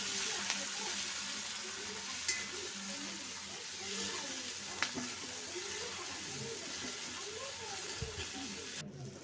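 Sliced onion, tomato and green chilli sizzle steadily in a pan for kadala curry, with occasional soft scrapes and taps of a spoon stirring through the steady frying hiss.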